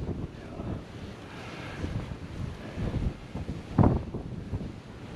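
Strong wind buffets the microphone outdoors on a lake while fishing from a boat, a steady roaring gust with water sounds beneath and a louder blast near the end.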